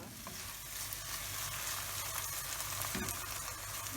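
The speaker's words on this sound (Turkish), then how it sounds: "2-3 dakika kadar daha karıştırarak kavrulsun." İçli köfte filling stirred and sautéed in a pan, a soft steady sizzle with scraping stirs throughout, close and fairly quiet with no talking.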